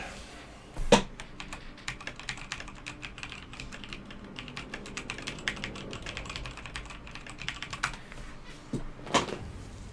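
Rapid clicking keystrokes on a newly bought computer keyboard fill the whole stretch, a steady patter of close, crisp taps with a few louder, sharper key strikes standing out near the start and end.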